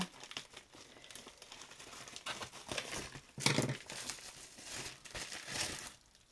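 A mail envelope being torn open and crinkled, irregular papery rustles and crackles up close, quiet, with a louder burst of crumpling partway through.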